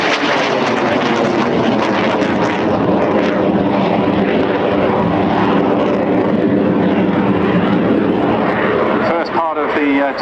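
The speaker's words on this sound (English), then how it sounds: "Display, Pavel puts it through its high G and high energy maneuvers before slowing it down a little bit about halfway through." An Aero L-159A ALCA jet roars loudly and continuously through a high-G, high-energy air display at an air day. A steady, broad engine rush is heard with wind buffeting, and the pitch sweeps near the end.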